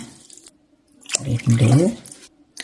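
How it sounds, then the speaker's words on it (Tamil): Water poured into sugar for gulab jamun syrup gives a short, close splashing gush with a gurgling trickle, framed by near silence before and after. "எவ்வளோ சர்க்கரை போடுறீங்களோ அந்த அளவுக்கே நீங்கள் தண்ணி ஊற்றணும்."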